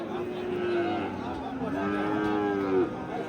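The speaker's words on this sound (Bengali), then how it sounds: "হাটে কিন্তু প্রচুর পরিমাণে গরু আমরা একটু আপনাদেরকে ভালো গরুগুলো দেখানোর চেষ্টা করতেছি" At the Raniganj cattle market, crowded with Friesian-type bulls and cows, a nearby animal gives two long, loud moos over the market's general murmur.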